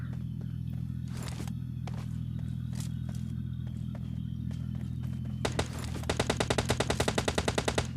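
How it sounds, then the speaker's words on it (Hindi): Gunfire in a duo vs duo shooter video game: scattered single shots over a steady low engine-like hum, then a rapid automatic burst of evenly spaced shots near the end. "तो भाई उसके फायर की आवाज़ आती है"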